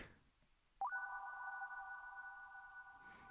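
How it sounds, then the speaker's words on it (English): A spacey sine-wave synth patch built in Serum, with slightly detuned unison voices and reverb, swells in as a steady sustained tone held alone for a few seconds. "It's really spacey. It's just vibey. It's just a sine wave."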